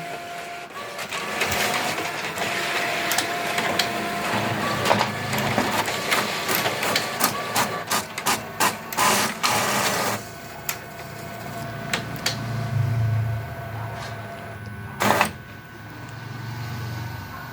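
An Epson L15180 inkjet printer runs a copy job, with steady mechanical whirring, repeated clicks and rhythmic paper-feed thumps that continue for the whole span, followed by a low motor rumble near the end. No one speaks.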